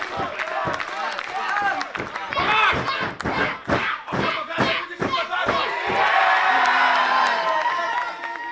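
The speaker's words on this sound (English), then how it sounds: "Maverick, the clear crowd favorite here against Sabo." A loud arena crowd at a wrestling-style fight event roars and cheers continuously, with heavy thuds and slams cutting through the noise and a commentator's voice partly audible underneath.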